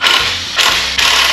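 A socket wrench working on parts of a 1928 Model A Ford engine, giving three loud, close bursts of rapid ratcheting clicks in quick succession.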